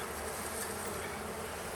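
A dense, steady buzzing of many honey bees at close range during a hive inspection, continuous and without pauses.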